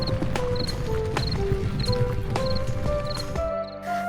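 Horses clip-clopping away at a steady trot, hooves knocking rhythmically over a busy musical score, fading near the end.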